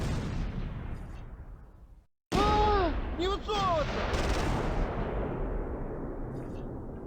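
MG-34 machine gun fire in the WWII strategy game Close Combat 3 on the Russian Front, loud sustained battle noise with gunfire and blasts, briefly cut to silence, then resuming with whistling incoming shells and continuing heavy firing.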